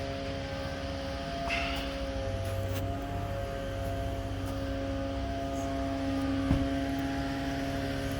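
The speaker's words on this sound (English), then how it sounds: "got some road construction going on here by my house." Road construction machinery working near a house, a steady low engine drone with a constant hum running moderately loud throughout, no voices.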